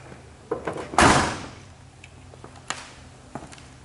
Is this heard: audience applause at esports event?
no